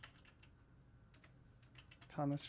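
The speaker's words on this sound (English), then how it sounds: "I'm typing that in his stream." Light typing on a computer keyboard during a livestream, a few soft scattered key taps, faint and close, followed by a brief burst of voice.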